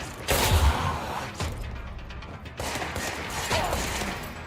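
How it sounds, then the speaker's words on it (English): Gunfire in the video game Control as computers are shot, repeated loud bursts of shots with crashing impacts, close and punchy over a low ambient rumble. "Stop shooting the computers."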